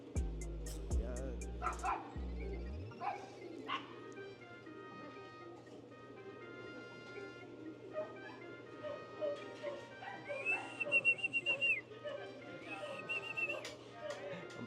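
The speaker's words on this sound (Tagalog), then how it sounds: "Ang pangit ko pumito." A person whistles a short, rough tune with a rising, wavering pitch. Dogs bark and yip nearby, and low voices and background hum fill the rest of the scene.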